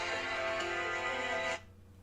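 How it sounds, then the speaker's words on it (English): A phone rings with an incoming call, a steady electronic tone lasting about a second and a half before cutting off, fairly loud and close with no talk over it. "That's a phone call."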